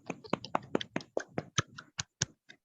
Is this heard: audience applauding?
yes